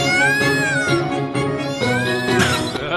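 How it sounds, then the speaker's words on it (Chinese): Meowing sound effect for the new cat Toots in the Tom and Jerry mobile game's Christmas scene: a loud, continuous run of tonal, wavering cat calls rising and falling over three seconds, with no talking. "这个喵喵叫也有自己的音效了。"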